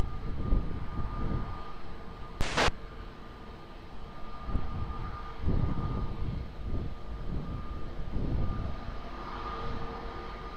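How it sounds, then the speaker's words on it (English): An airliner lands on runway 20 at Lisbon Airport, a broad rumbling jet roar heard from a distance that swells and fades unevenly, with a brief sharp noise burst early on. "runway 20, clear to land."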